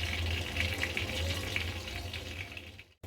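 Asafoetida dropped into hot oil on a low gas flame while tempering sambar, giving a steady close hiss and sizzle that cuts out abruptly near the end.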